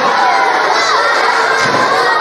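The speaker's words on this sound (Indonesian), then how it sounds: "Tepuk tangan." Children at an Islamic religious talk clap and cheer together, a dense, steady wash of applause and shouts filling the room for the full stretch.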